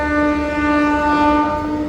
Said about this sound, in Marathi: अख्खी मोकळी रेल्वे चालली आहे.